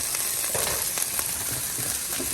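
Carrots and other vegetables frying in a stir fry pan with cauliflower, corn and potatoes, a steady loud close sizzle throughout with faint scraping, no voices.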